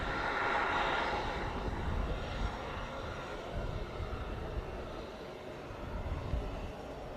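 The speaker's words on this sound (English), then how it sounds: "this is the Royal Saudi Air Force Airbus A330 multi-role tanker transport" A Royal Saudi Air Force Airbus A330 multi-role tanker transport arrives at the Royal International Air Tattoo, its jet engines a broad, distant roar that is fairly faint and fades slowly.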